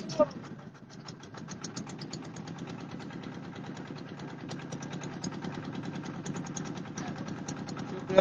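Boat engine idling as the boat docks at a ghat on the Jamuna river near Bhuapur, Tangail, with a steady low chugging pulse close by, under a voice.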